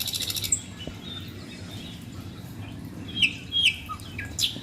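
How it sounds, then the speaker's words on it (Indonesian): A recording of birdsong played through a speaker in a hydroponic lettuce-growing setup using the sonic bloom method: several short chirps and tweets over a low steady hum. "jadi ini adalah lagu kicauan burung"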